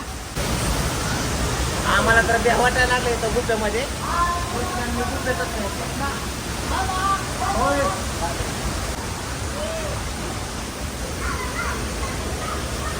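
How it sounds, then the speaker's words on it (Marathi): A waterfall on a trip near Satara roars as a steady, loud wash of falling water, heard continuously beneath people talking and calling out nearby. "बघितलं का कसं काय पाणी पडतंय"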